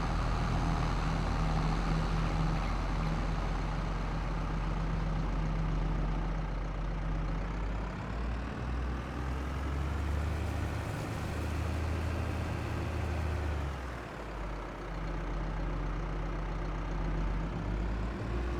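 Tractor with a front loader in Farming Simulator 22 runs as a steady low engine drone throughout, shifting in pitch midway as it works, with no talk over it.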